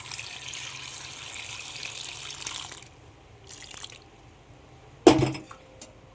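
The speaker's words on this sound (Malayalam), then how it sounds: "ഈ ചക്കക്കുരു വേവാൻ ആവശ്യമായ വെള്ളം ചേർത്ത് കൊടുക്കണം." Water poured into a pot of jackfruit seeds makes a soft, steady splashing gush for about three seconds. A brief second pour follows, then a sharp metallic clink of the pot or utensil in a quiet kitchen.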